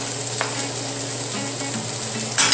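Ginger hisses and sizzles loudly in hot cooking oil in a pan while being sautéed, a steady close frying crackle with a few light stirring clinks.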